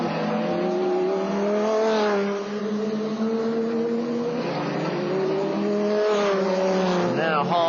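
A GT race car accelerates at Homestead speedway in 1999, its engine note climbing through the gears in a loud, sustained rising whine, with commentary talking over it throughout.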